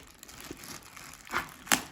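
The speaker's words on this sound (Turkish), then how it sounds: "Evet şu an poşetinden açıyorum." A new Epson L3251 ink bottle is pulled from its plastic bag, giving soft crinkling rustles that build to two sharper, louder crackles near the end, close and quiet with no talk.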